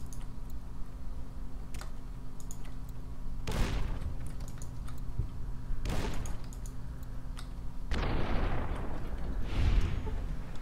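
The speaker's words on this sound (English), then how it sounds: "Try to fuck up these fools with grenades." Grenade explosions in the video game Fallout: New Vegas, several booming blasts at irregular intervals over a steady background of game ambience and clicks.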